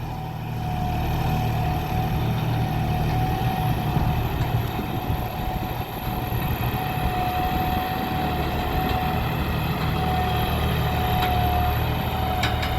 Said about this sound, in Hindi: ये है इसके सी के पहले गियर की चाल।